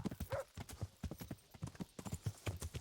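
Horse hooves in Kingdom Come: Deliverance, a steady rhythmic clip-clop of a trotting horse that is close and continuous, with a brief whinny near the start.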